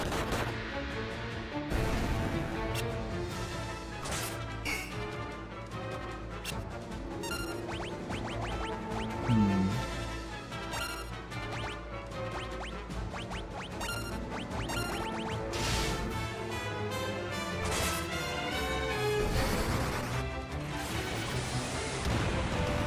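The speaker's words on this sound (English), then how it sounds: "Explosions." Magic spell explosions and battle effects from the game Final Fantasy 2 crash in a run of sharp bursts and booms over looping game music, with a swooping effect partway through.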